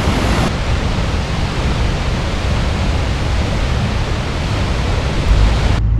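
A waterfall pours over a wall of volcanic lava rock, a dense, steady broadband rush that fills the whole clip, loud and close with no other sounds.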